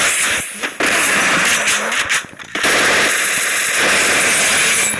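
Rapid automatic gunfire from a shooting video game fills the clip, loud and continuous with brief gaps, bursts rattling close over a dense background of game noise.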